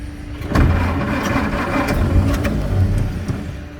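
The engine of a 1926 fuel truck is started on its starter, with a short cranking whir that catches into a loud, uneven running engine up close, with no talk.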